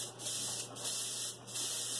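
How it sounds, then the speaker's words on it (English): Three short bursts of airbrush spray hiss as paint is sprayed for figure painting, evenly spaced, close up over a steady background hum. "you want to spray a little bit of paint out."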